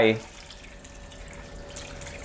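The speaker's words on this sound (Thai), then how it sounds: "แล้วเทน้ำเปล่าตามลงไป" A steady, soft stream of water pouring into a pan of cut pork belly, continuing evenly after a brief spoken word at the start.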